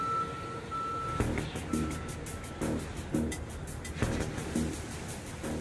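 An airport de-icer vehicle with a 45-metre spray boom carrying 10,000 litres of fluid reverses, its warning beeper pulsing in a regular series over a low engine rumble outdoors.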